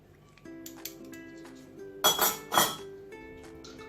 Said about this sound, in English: mix this all together until it's creamy and fluffy